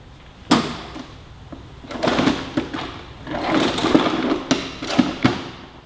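A motorcycle fuel tank is set back onto a 2018 Suzuki GSX-R1000, heard as a run of close knocks, thuds and scraping clunks at irregular intervals with no talking.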